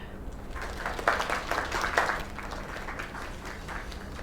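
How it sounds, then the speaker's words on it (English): Applause from a small group, steady clapping with a few louder bursts, fairly close, with some voices mixed in. "Another round of applause."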